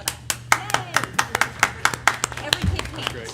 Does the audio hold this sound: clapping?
yes